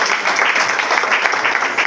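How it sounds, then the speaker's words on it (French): Loud, dense audience applause at a press conference launching a festival, a continuous close clapping roar that runs throughout without a break. "Est-ce qu'on ne peut pas mieux applaudir"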